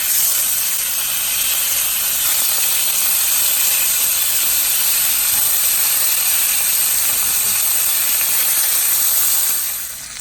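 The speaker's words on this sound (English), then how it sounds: "We're going to sear the oxtail on both sides, or all the sides" Oxtail searing in a very hot pan, a steady loud sizzle and hiss that runs unbroken throughout with no talking.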